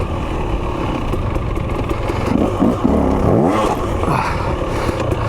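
The engine of a 2023 KTM TBI two-stroke dirt bike revs up close and loud over a rough off-road ride, its pitch rising and falling amid rattling and clatter.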